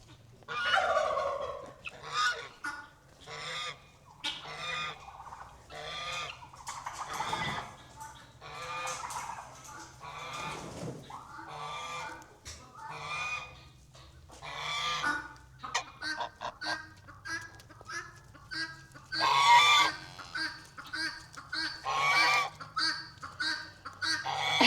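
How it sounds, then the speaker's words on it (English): Peacocks call repeatedly on a farm, loud honking and wailing cries coming in irregular bursts near and far, with some voices talking between the calls. "The peacocks showed up a few minutes ago"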